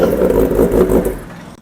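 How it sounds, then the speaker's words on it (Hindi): A Kawasaki ZX-10R superbike with titanium headers revs its exhaust up close, a loud throaty roar that surges and then drops away quickly to silence. "इस बाइक की तारीफ करने से पहले हम इसका पहले एग्जॉस्ट साउंड सुना देते हैं"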